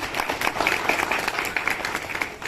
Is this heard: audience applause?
yes